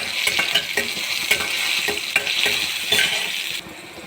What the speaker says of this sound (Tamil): பூண்டு, மிளகாய், சேர்த்து வதக்க வேண்டும்.